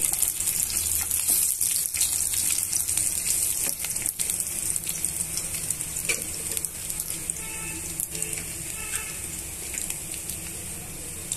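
Chillies and garlic crackle and sizzle in hot oil, a steady close frying hiss with occasional stirring clicks and pops.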